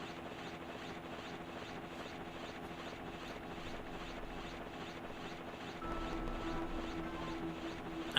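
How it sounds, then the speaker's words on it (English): A transport helicopter approaching in a video game, with a steady pulsing rotor thump and whirring drone that grows slightly louder and nearer toward the end, heard without talk. "The transport chopper is rapidly approaching."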